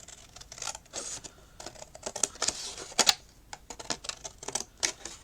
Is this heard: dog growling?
no